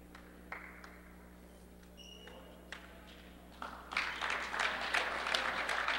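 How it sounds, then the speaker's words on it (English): Applause from a basketball crowd swells up after a missed shot that rolled out, growing into a broad, moderately loud wash of clapping in a gym. "Admir leads to a good round of applause."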